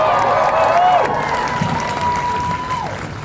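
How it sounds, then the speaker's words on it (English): A crowd at an outdoor climate justice teach-in claps and cheers, a few loud drawn-out whoops riding over a bed of scattered applause that fades a little toward the end. "Donnez-vous une belle main d'applaudissement pour le soleil!"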